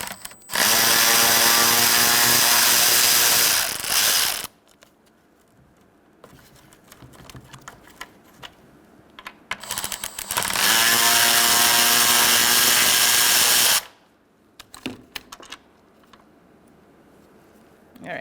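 A power tool with a T30 Torx bit loosens bolts on the intake manifold of a 2000-2007 Ford Taurus 3.0L V6, making two loud, sustained whirring bursts of about four seconds each, with clicks and handling noise between.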